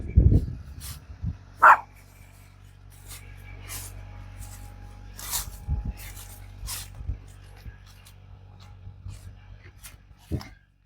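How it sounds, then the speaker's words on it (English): Dog barks in a few sharp bursts, one loud near the start and fainter ones scattered later, inside a quiet room with low hum and a person speaking briefly. "what are you barking at?"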